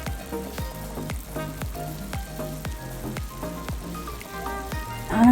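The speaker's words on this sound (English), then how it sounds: "Cook it on a low simmering heat." Chicken pieces cooking on low simmering heat, with a gentle continuous sizzle running beneath rhythmic plucked background music.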